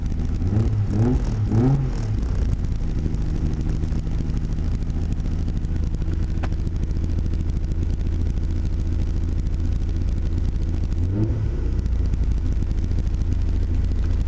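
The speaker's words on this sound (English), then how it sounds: "3 years of work, runs just great. It'll idle high and then slow down later." A Nissan 300ZX Z32 fitted with a swapped Skyline GT-R RB26DETT engine idles steadily up close, a loud, continuous low rumble with a couple of brief blips of revs near the start and again later.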